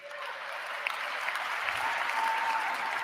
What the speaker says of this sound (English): George Bush is clapping for that one